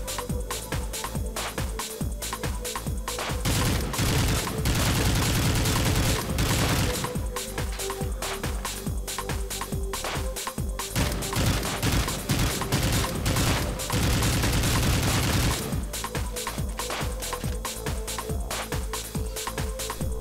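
Gold ACR 6.8 assault rifle firing in Call of Duty: Modern Warfare 3 on the Wii, loud rapid automatic bursts repeated over and over with brief gaps, close and continuous, no talking.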